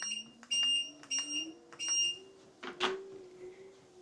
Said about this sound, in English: Getting that little extra beep in there every time